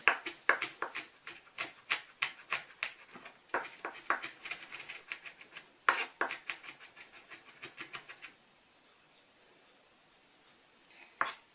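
Garlic being crushed and then chopped with a knife on a board: a quiet series of quick, sharp taps in irregular bursts, thinning out into silence before a last lone tap, with no voices.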